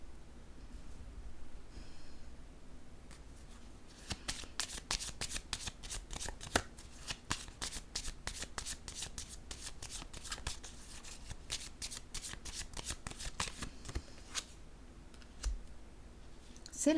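Playing cards shuffled and laid down on a table during a card reading, a dense run of crisp riffling clicks and soft slaps, fairly close and quiet, with a calmer stretch at the start.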